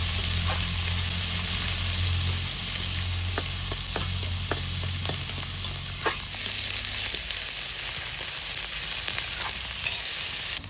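Onions frying lightly in a pan sizzle with a steady broadband hiss, broken by a few sharp stirring scrapes and taps, with a faint low hum underneath and no talking.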